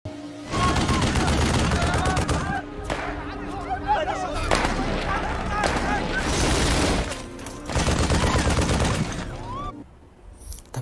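Sustained volleys of gunfire in a war film set in Mosul, a squad returning fire on an enemy sniper, with dense rapid bursts and heavy booms dropping out briefly near the end.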